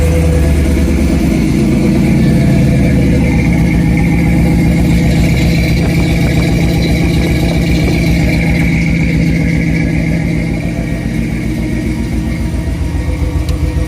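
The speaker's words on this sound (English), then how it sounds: "so I'm going to start this up." A Jeep YJ engine starts and runs steadily with a deep, close exhaust rumble and a constant idle throb that holds for the whole stretch, with no talk over it.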